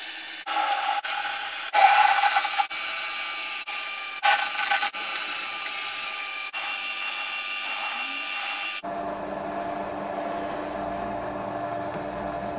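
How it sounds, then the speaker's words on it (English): A lathe drills and bores a cast iron handwheel with steady grinding and scraping under a constant motor drone, broken by short cutting bursts, then shifting to a smoother, higher whine with a thin tonal ring near the end. "After facing, I'm going to be drilling and boring undersize so that later on we can finish the collet"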